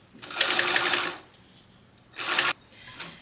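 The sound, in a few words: sewing machine stitching vinyl bucket bag with zipper foot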